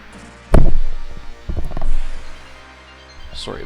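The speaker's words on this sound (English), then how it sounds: "Happened to hit my headphones." Headphones are bumped against a microphone, producing two loud, close thumping knocks followed by faint rustling handling noise.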